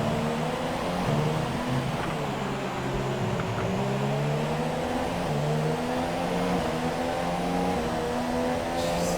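A Formula One race car engine in the F1 2017 racing game at Mexico drones continuously, its pitch rising and falling through gear changes, loud and close with no talk over it.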